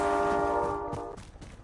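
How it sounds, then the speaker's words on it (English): A train horn sounds in Call of Duty Warzone, a loud, sustained chord that cuts off abruptly, followed by rumbling rail noise. "Train, it's on the gun train."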